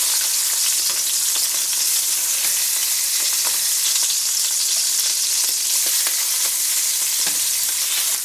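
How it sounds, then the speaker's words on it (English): Beef short ribs searing in a hot pan for a red wine braise produce a loud, continuous, dense sizzle close up, steady throughout with no talking. "Once these get a nice sear on them, like so, I'm going to go ahead and flip them over."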